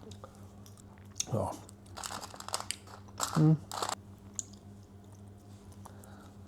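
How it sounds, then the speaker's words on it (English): Chewing and crunching on a hard sweet from a supermarket Easter snack tin, a few close, irregular crunches with short pauses, with a brief spoken exclamation mixed in. "That sweet is a hard chew on that one."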